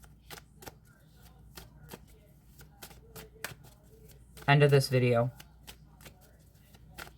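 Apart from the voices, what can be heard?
shuffling a deck of tarot cards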